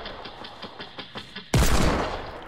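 Hand cannon gunfire in a video game: a few soft, rhythmic taps give way to one loud, sharp, broadband blast that rings out and slowly decays.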